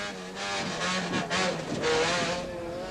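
A Peugeot 106 rally car at a 1999 rallysprint, its engine droning loud and continuous with rising and falling revs as it is driven through a stage.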